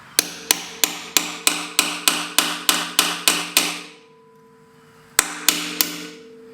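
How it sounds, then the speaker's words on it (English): Sharp metallic hammer strikes driving a center punch into a metal cap on a BMW ZF320 gearbox detent, in a steady run of about eleven, a pause, then four more blows, close and loud. "I drive the center punch in there"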